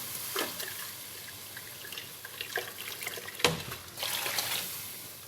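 Saffron water splashes and trickles into a pan while Emirati aseeda cooks, a quiet, uneven pour with a few louder splashes near the middle and end.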